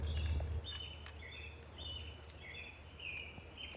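Birds chirp outdoors in short, repeated high tweets over faint background noise, with a brief low thump at the start.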